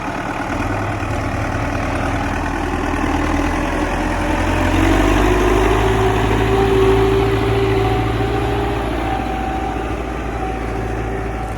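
An MTZ 892 tractor engine pulls a Veles Agro 2+1 plough through a field at 40 cm depth, giving a steady, loud, close diesel drone that rises slightly mid-way, with no talking.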